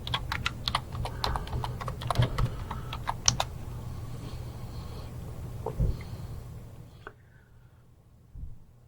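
Someone types a search into an online legal research database on a computer keyboard, a quick run of close keystroke clicks early on that then thins out over a low steady hum, with no talk.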